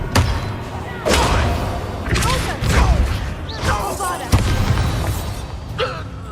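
Spell blasts in Hogwarts Legacy, Confringo and Expelliarmus, a series of about six loud booming thuds and crackling bursts spaced roughly a second apart over continuous game noise.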